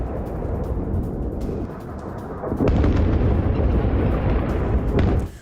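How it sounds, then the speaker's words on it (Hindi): Heavy rumbling blasts from airstrikes and bombing on Iranian cities, a sustained loud low roar that swells sharply midway and stays dense before cutting off. "बड़े पैमाने पर हवाई हमले और भीषण विस्फोट से मची तबाही"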